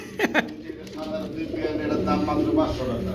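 Black Mukhi pigeons, a breeding pair, coo softly and repeatedly beneath steady talk from people nearby, with a couple of sharper calls near the start.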